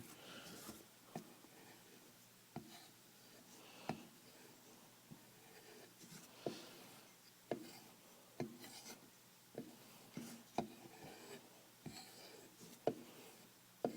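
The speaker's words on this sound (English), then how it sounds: "I'm just going to strop the micro bevel" A knife's micro bevel is stropped during tool maintenance: quiet, rhythmic rubbing strokes with sharp little ticks roughly every second, close and soft over a near-silent background.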